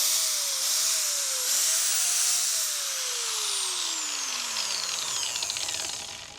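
A Bosch 1400-watt power tool whines at high speed close by. Its pitch dips and recovers a few times, then it winds down steadily toward the end.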